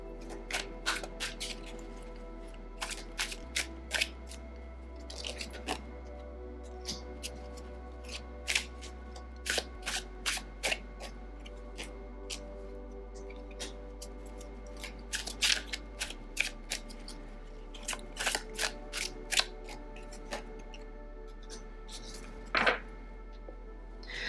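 Tarot cards being shuffled and pulled, a steady run of soft riffling, flicking and snapping card sounds close up, with scattered louder slaps and a low background hum throughout.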